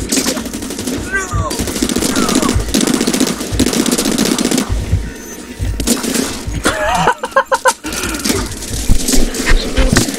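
Rapid automatic gunfire and shots in a Sword Art Online–style video game, loud and continuous with crashing impacts, while a player talks and exclaims over it.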